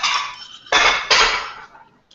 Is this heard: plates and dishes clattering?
yes